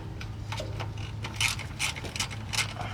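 Small 10 mm bolts ratchet loose from plastic brackets under a car near a hot oil pan, with repeated close clicking ratchet bursts and light metallic clinks over a low hum.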